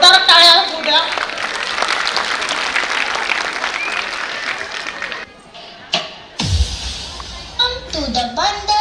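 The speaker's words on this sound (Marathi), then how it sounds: "जोरदार टाळ्या होऊ द्या." Audience at a school annual day claps loudly for child performers, a dense burst of applause that fades after several seconds, followed by voices and thumps.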